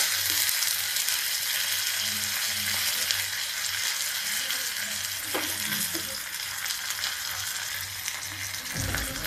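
Mustard seeds crackling and sizzling in hot oil in a small tadka pan for dal, a continuous dense frying hiss with scattered pops throughout.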